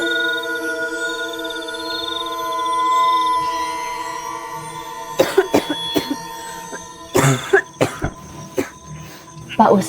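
Repeated harsh coughing fits in an Indonesian horror film scene, several bursts in the second half, after a stretch of steady tonal background sound with insect-like chirping.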